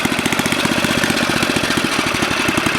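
A Tecumseh HS40 small engine, camshaft repaired with JB Weld and its bolt tightened, idling with an uncleaned carburetor: a loud, steady, rapid chugging pulse heard up close without pause.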